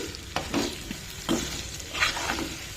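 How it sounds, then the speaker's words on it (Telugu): A spoon stirs an egg and fenugreek curry in a sizzling pan, giving several distinct scraping strokes over steady frying hiss, close and clear with no talk. "మొత్తం మిక్స్ చేసేసేసి"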